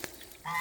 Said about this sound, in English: I think that African geese are one of the most beautiful ducks, or geese.